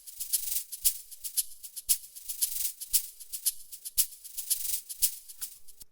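A crisp, bright amapiano shaker loop ticks in a quick steady rhythm with accented hits, played alone and clearly up front.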